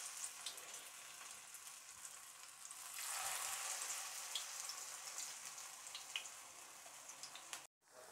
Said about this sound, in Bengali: এভাবে একটু মেখে তারপর আমি বড়াগুলো তেলে দিব। আমি তেল গরম করে নিয়েছি